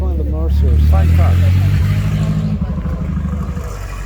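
A classic Mercer car from around 1927 to 1936 rolls past at the AACA Hershey car show, its engine a deep, loud, close rumble that swells and then chugs away, with people talking over it.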